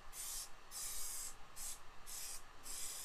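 Shaken aerosol can spraying 1K solvent-based filler onto a Ford Capri body panel, four or five short hissing bursts separated by brief pauses, close and fairly quiet.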